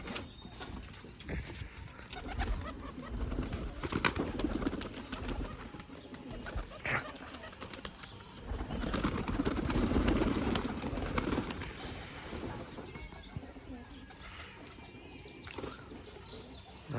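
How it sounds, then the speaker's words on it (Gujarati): Pigeons cooing softly in low, repeated murmurs, several birds together, with rustling and fluttering around them. "હાલો ફટાફટ આપણે કબૂતર ખોલ નાખી"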